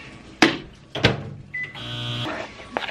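A kitchen microwave set for a 30-second run: two sharp clunks of the door, a short beep, then a low electric hum starting up and ending with a click.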